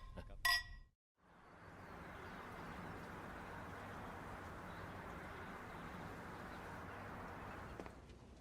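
Drinking glasses clink together once in a toast, a short bright ring near the start, followed by a steady wash of room or background noise.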